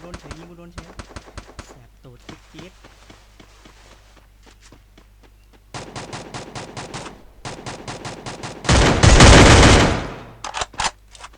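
Gunfire in a video game shooter: bursts of rapid, sharp automatic shots in close rhythmic strings, separated by quieter footstep-like taps, building to a loud, sustained blast near the end, with people talking over the action.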